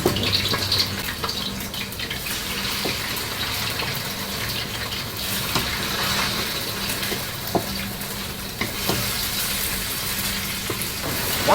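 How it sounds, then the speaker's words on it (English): Lean pork slices sear in hot oil in a wok, a steady bright crackling sizzle with occasional pops and faint utensil knocks, close and continuous with no talking. "Instead, let the pork sear for a minute."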